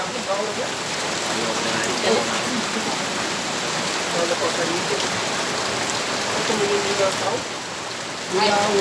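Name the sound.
heavy rain falling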